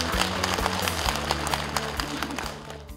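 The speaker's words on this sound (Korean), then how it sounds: "따뜻한 박수 부탁드리겠습니다" Warm applause from a crowd at a Korean assembly as a National Assembly member is introduced to give a congratulatory speech. Many hands clap steadily, loud and full, under a low hum of background sound.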